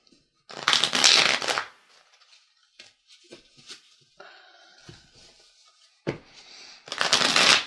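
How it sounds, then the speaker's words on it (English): Room cards from the board game Infinity Dungeon are shuffled together in two close, crisp bursts of riffling, one near the start and a longer one at the end, with quieter card handling and small taps in between. "Begin the game by shuffling together all of the rooms."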